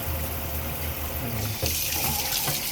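A newly installed kitchen sink waterfall faucet runs steadily, water splashing loudly into the basin with a constant rushing hiss and no voices.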